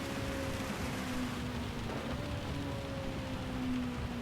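Heavy rain drums steadily over a race car in extremely wet weather in Gran Turismo 7, a Honda NSX on a Le Mans circuit, with a low engine drone running continuously beneath the broadband downpour.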